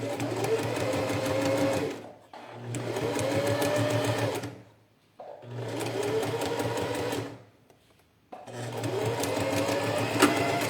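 A sewing machine stitching a plastic pouch, running in three long close bursts of rapid, even mechanical whirring separated by short pauses.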